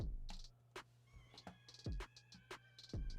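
A pet cat meows indoors in a few short, separate calls, fairly close and alone, with a steady low hum underneath.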